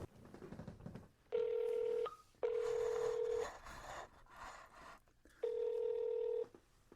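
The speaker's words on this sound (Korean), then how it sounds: "전화를 걸어보도록 하겠습니다." A telephone dials out during a Korean radio show, sending three long, loud steady tones with short gaps between them, the line pausing between each tone, with no talk over them.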